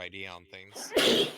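A single sharp sneeze bursts out right after a few spoken words, close and brief.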